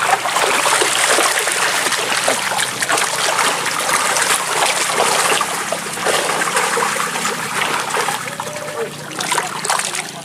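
Water rushes and splashes steadily in a fish pond holding carp, a dense continuous wash of flow and spatter that stays loud throughout with no voices.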